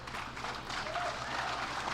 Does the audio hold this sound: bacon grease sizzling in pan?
no